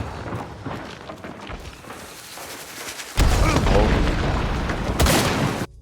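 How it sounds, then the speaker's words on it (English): Shotgun blast to the head in Hunt: Showdown, a loud sudden boom that jumps out of a busy game soundscape and holds, with a second sharp hit shortly after before the sound cuts off. "Shot there with the shotgun at the head range."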